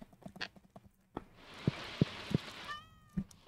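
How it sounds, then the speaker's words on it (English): Cat meowing in the Stardew Valley farming game, a short rising game-sound meow near the end, preceded by soft footstep-like clicks over a faint background hiss. "Cat."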